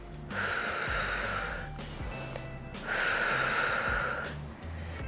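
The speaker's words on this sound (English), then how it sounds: "Breathing." Heavy breathing during a seated workout for seniors: two long, loud, close exhales with a soft breath between them, set against a low, quiet background.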